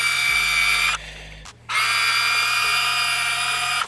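Huina 1580 V4 radio-controlled toy excavator driving forward on its tracks, a loud steady high-pitched electric motor whine with a low rumble that stops briefly midway, then resumes and runs on to the end.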